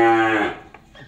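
An F2 crossbred cow in a cattle lot lets out a loud, near moo that tails off quickly, followed by faint shuffling and small knocks.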